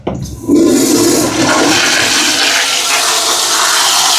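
A toilet with a flush valve, one needing servicing, flushes in a single loud rush of water that starts abruptly after a brief click and keeps roaring steadily close up.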